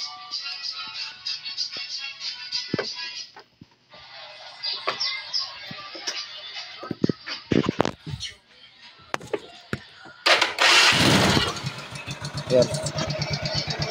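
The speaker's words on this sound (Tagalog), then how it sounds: "Yung Bindex ang maingay dito mga paps." Yamaha Mio Sporty scooter with a noisy starter Bendix one-way clutch: the starter engages and the engine fires and revs loudly near the end, after a stretch of voices talking over faint clicks and mechanical noise.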